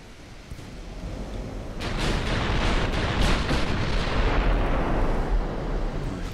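Heavy battleship main-gun fire in the naval combat game Ultimate Admiral: Dreadnoughts, a dense rolling roar of booming salvos that swells after the first couple of seconds and stays loud and continuous.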